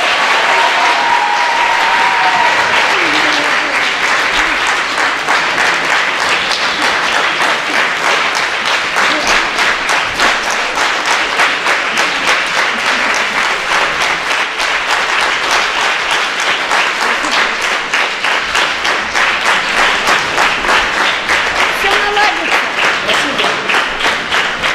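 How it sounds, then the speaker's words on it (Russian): A lecture audience at a talk on Ostrovsky's drama breaks into sustained applause, dense and even clapping that stays loud throughout, with a few voices briefly audible at the start. "Все, аплодисменты."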